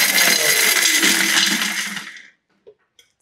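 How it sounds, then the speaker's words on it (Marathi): A mixer grinder pulses dry fruits into pieces: a loud whirring burst of about two seconds winds down to silence, followed by a couple of small clicks. "सुकामेव्याचे फक्त तुकडे करायचे, त्यामुळे 1-2 फक्त पल्स करायचे."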